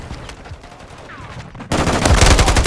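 Gunfire in Call of Duty MWIII: quiet ambience and faint distant shots, then a sudden loud burst of rapid automatic fire up close.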